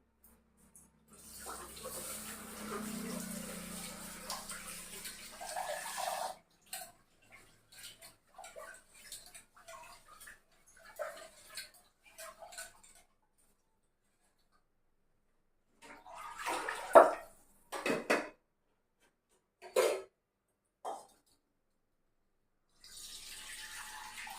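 Rice is washed in a home kitchen: a run of splashing, pouring water at first, then scattered short sloshes and clinks of a pot or vessel separated by quiet gaps, close up with no talking.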